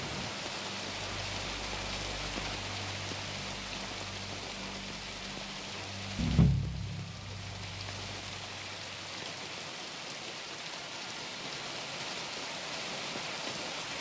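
Steady rain hisses through a medieval setting in Kingdom Come: Deliverance 2, a dense wash of drops on surfaces at constant level. Low rumbling ambience sits under it, and a single brief thump lands about halfway through.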